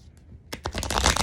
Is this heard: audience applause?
no